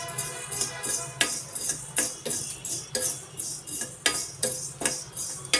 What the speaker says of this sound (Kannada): ಅರ್ಧ ಚಮಚ ಜೀರಿಗೆಯನ್ನು ಕೂಡ ಸೇರಿಸಿ ಹುರಿತಾ ಇದ್ದೀನಿ